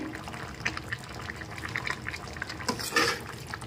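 Rohu fish curry with winter vegetables and bori simmering in a pan, a soft, continuous bubbling and popping heard up close with no voices.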